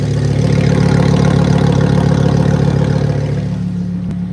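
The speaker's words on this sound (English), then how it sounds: "Now you heard that switch. You hear that deeper sounding grumble." A car engine idles with a steady, deep low grumble, loud and continuous, easing slightly near the end.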